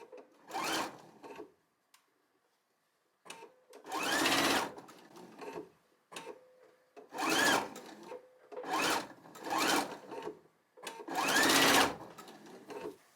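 Sewing machine stitching curved quilt patchwork pieces together, running in about five distinct bursts separated by brief pauses, loud and close with no talking.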